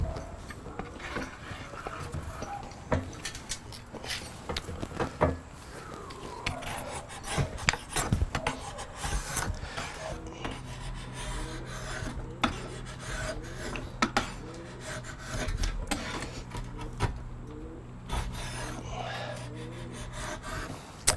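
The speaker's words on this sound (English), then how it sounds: "I'm gonna work this right on down to the line" Rasping, scraping strokes of a drawknife shaving wood from a wooden bow stave, repeated steadily for about twenty seconds at close range with a low hum partway through, no talking.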